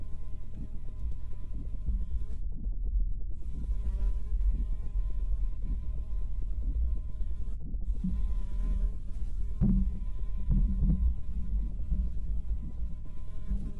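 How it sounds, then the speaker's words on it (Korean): A fly buzzes continuously in the game Insomnia Awaken, a droning, humming whine that wavers slightly in pitch, set over a low, steady rumble. "파리 소리 뭐야"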